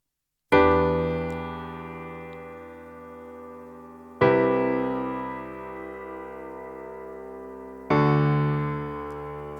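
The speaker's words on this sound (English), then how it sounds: "I've got this lovely chord progression using the studio piano" Three sustained studio piano chords from a Logic Pro progression struck one after another, each ringing out and slowly decaying before the next, clean and alone.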